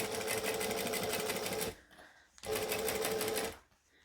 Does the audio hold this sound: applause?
no